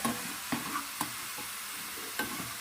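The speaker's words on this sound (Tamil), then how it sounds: "இதே மாதிரி நீங்க எல்லா பூண்டையும் வறுத்து எடுத்துக்கோங்க." Garlic frying in oil until golden and crispy, a bright, hissing sizzle with a few sharp utensil taps spaced through the short stretch, heard up close without voices.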